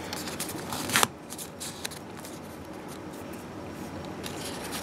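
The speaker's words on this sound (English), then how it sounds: "you're going to fold right on the crease like that" Origami paper for a rose being folded in half and creased, giving close crisp rustles and sharp crackling rubs, with one pronounced snap early on followed by steady papery scraping.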